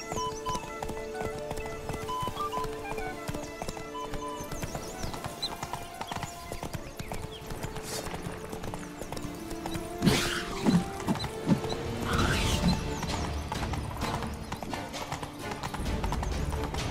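Roach the horse from The Witcher 3 galloping, rapid rhythmic hoofbeats running steadily throughout, mixed with game ambience, music and a few brief louder effects, with occasional voices.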